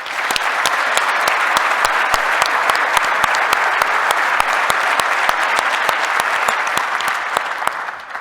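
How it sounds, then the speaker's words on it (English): A keynote audience at the JNUC 2017 conference breaks into sustained applause, a loud, dense wash of clapping with crisp individual claps popping out near the front, holding steady before tapering slightly at the end. "I'd love to get a round of applause for those guys"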